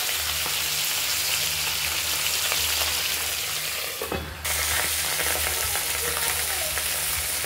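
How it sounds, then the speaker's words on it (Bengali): A rohu fish head frying in a pan sizzles steadily and densely throughout, with a brief dip around the midpoint as it is handled, then resumes; no voices. "একদিকটা ভাজা হয়ে গেছে, অপর সাইডটা ভাজছি।"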